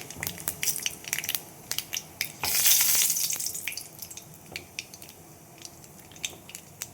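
Dry white sesame and poppy seeds being ground in a mixer for a Bengali papaya posto dish, a steady crushing whirr with a louder burst of grinding in the middle and clicking bits around it.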